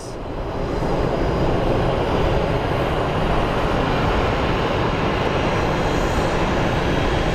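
An aircraft being pushed back at Phoenix Sky Harbor airport gives a steady, loud engine roar that swells within the first second and then holds evenly throughout, with no voices.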